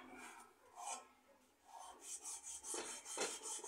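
Sandpaper rubbed by hand along a homemade ionic rod, a series of raspy back-and-forth strokes in an irregular rhythm, close and fairly quiet, with no talking.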